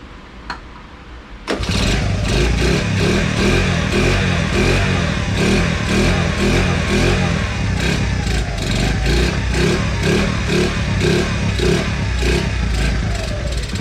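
A Honda ATC70 three-wheeler is started after a quiet moment and then runs loud and close, its small single-cylinder engine chugging with a steady throb and repeated rises in revs throughout.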